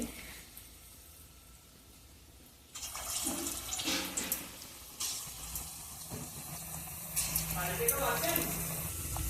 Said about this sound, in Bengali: ফুলুরি ভাজার জন্য কড়াই বসিয়ে দিয়েছি কড়াইতে তেল দিয়েছি এবার কি ফুলুরির জন্য ছেড়ে দিচ্ছি